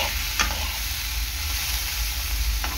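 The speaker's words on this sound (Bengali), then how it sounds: "লবণ দেওয়ার আগে ভালো করে একটুখানি তেলের মধ্যে ভেজে নেব" Bitter gourd fries in hot oil in a wok with a steady, loud, close sizzle and hiss throughout, plus a faint scrape or two of stirring; no voices.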